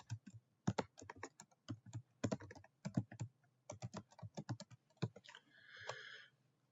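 Close, crisp clicking of a computer keyboard as a customer name is typed, in quick uneven bursts of keystrokes, ending with a short electronic chime.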